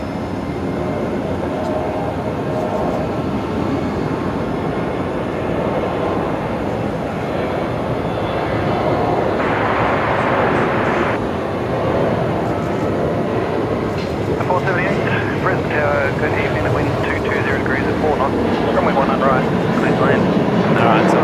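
A Velocity airliner's full-length takeoff roll from Brisbane Airport's runway 01 produces a loud, sustained jet roar that builds and holds over twenty seconds. Talk runs over it.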